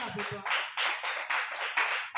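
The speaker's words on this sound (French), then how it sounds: "Applaudis pour le Seigneur." A church congregation claps in praise during a French-language sermon: strong, rhythmic claps in even pulses about twice a second, after a brief voice at the start.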